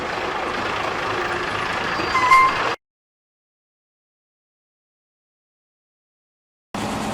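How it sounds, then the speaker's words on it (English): An antique bus engine rumbles steadily at close range on an island tour in the Isles of Scilly, cuts out abruptly for several seconds, then comes back at the end. "We're off on a antique bus today."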